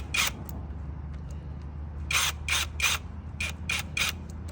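Impact wrench cracking screws loose on a 1994 Yamaha Virago XV535 carburetor: several short, sharp mechanical bursts, one alone and then a quick run of four, with a pair more after a brief pause, over a steady low hum.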